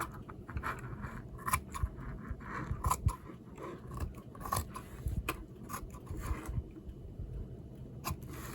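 Scissors trim fringe material for a boho bag, a series of quiet close snips and crisp cuts scattered irregularly, with soft handling rustles between them.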